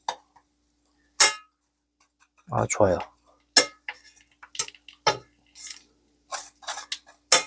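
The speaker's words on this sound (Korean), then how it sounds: "요 소리, 바삭바삭해지는 소리 나오죠?" Bread for a burger toasts crisply in a pan, giving sparse, sharp crackles and ticks at irregular intervals, with a short spoken word in between.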